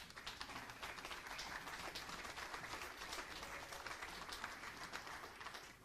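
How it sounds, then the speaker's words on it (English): Applause from a crowd at a mixed 10 m standing air rifle final, steady dense clapping that holds evenly throughout, fairly quiet and distant with no talk over it. "Applause for them."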